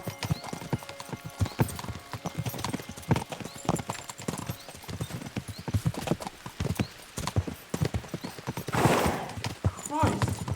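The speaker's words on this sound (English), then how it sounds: "We should spur the horses on." Hooves pound in a fast, steady clip-clop as horses gallop in the video game Kingdom Come Deliverance II. A horse whinnies partway through, and voices sound faintly under the hoofbeats.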